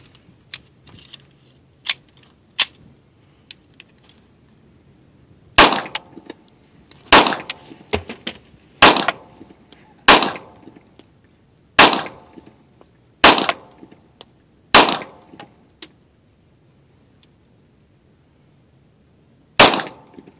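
A new Smith & Wesson 1911 E Series Tactical pistol fires a series of sharp, loud single shots at irregular intervals, each crack followed by a brief decay, with quiet gaps between.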